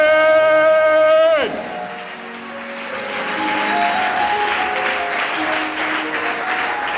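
A church congregation breaks into applause and cheering right after a sustained sung tone ends, the clapping building into a dense, fairly loud wash that carries on steadily.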